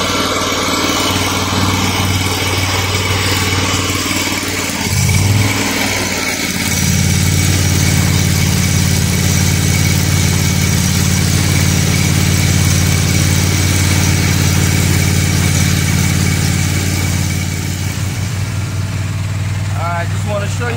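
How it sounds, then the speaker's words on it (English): A Honda GX630 engine runs steadily on a 3500 psi, 5.5 gpm pressure washer, a loud continuous drone with a brief dip and surge near five seconds, while a person talks over it. "I got my engine running."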